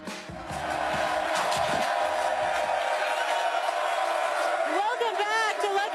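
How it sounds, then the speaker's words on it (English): A fired-up crowd at Lucky's Pub in Houston cheers and chants after a football touchdown, a continuous loud roar of many voices with rising shouts toward the end. "The crowd's fired up, we're loving it here. You hear the chants."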